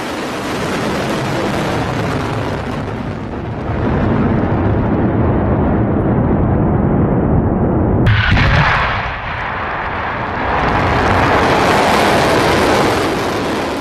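Iranian missile strikes on Israel bring a loud, continuous rumbling roar, broken midway by a sharp blast before the rumble builds again.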